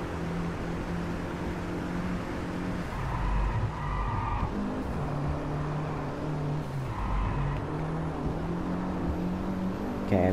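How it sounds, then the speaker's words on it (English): Car engine in the Driveclub racing game, a steady loud drone with shifting pitch through gear changes and brief skids and tire squeals along the way. "go faster, you stupid car"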